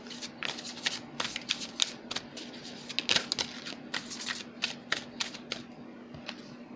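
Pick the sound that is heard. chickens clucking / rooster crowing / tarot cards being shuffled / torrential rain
tarot cards being shuffled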